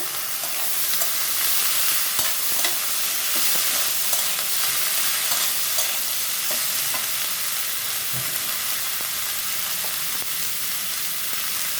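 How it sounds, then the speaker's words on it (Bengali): Bitter gourd is stir-fried with onion and turmeric in a pan, giving a continuous loud sizzle with light, irregular scrapes of a utensil stirring and no voices. "করলা ভাজি করব পেঁয়াজটা ভাজি করে নিচ্ছি"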